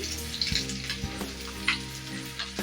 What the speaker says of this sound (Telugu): ఒక ఐదు నిమిషాలు కదపకుండా అట్లనే ఫ్రై చేయండి